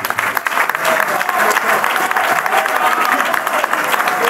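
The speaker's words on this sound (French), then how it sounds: "Excellence Félix Antoine Tshisekedi Tshilombo, que je vous demande d'applaudir" A crowd at an official launch ceremony for a new constitution commission bursts into sustained applause, dense, even clapping filling the whole stretch with no pause.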